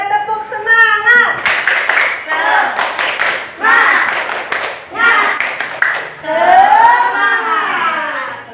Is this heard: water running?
no